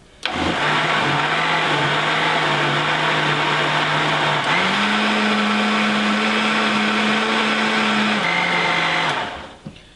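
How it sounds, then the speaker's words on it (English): A kitchen blender whirs a smoothie in two loud, close bursts, its motor pitch stepping up partway through before cutting off near the end. "you should pulse a little bit and kind of like a bit of a smoothie"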